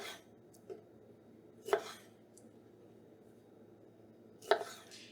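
Knife cutting cherry tomatoes in half on a board for a Mediterranean pasta salad: a few sharp, separate chops spaced seconds apart in a quiet room.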